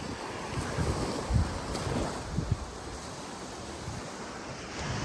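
Waves washing onto a steep beach of soft sand on a morning walk from Nesebar to Sunny Beach, a continuous surf roar with wind buffeting the microphone and faint crunching footsteps.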